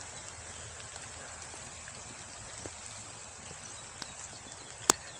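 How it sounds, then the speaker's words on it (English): Light rain falls steadily outdoors as a soft, even patter with a faint hiss, with a couple of brief sharper ticks and one louder click near the end. "It's a light rain."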